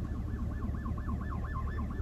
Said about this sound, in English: Oh, what's that? Ambulance.